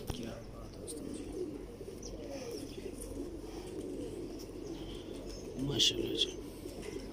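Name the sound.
Missa pigeons cooing, Mistri Din Sahib line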